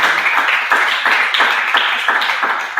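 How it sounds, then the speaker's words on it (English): An audience at a Global Power Platform Bootcamp in Osun State, Nigeria, claps steadily and loudly, a dense crowd applause pulsing in a fairly even rhythm of swelling bursts throughout, with no voices over it. "So can you clap more for me?"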